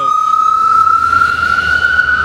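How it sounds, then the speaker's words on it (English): A passing ambulance's siren on a sunny street rings loud and steady as one sustained tone, with traffic rumble beneath and a voice faintly under it. "of course there's an ambulance coming by"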